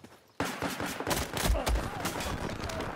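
AN-94 assault rifle fire in Battlefield 4, a rapid burst of dense gunfire after a brief quiet start, continuous close cracks with booming low-end hits through the rest.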